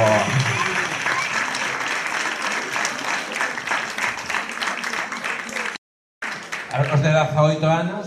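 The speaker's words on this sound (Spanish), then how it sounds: "¡Aplauso!" Sustained audience applause at a gala, loud and dense, filling the room for several seconds before a brief silent break, then resuming with a voice speaking over it.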